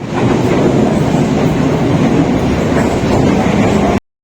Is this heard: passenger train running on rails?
yes